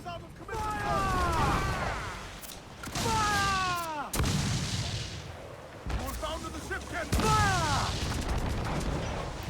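Ship cannons fire a broadside in Assassin's Creed IV: Black Flag, with several heavy booming blasts spread across the stretch, mixed with ongoing game voices and shouted commands.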